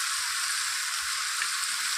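Cut potatoes frying in hot oil, a dense, steady sizzle heard close up without pause, with faint stirring underneath and no voices.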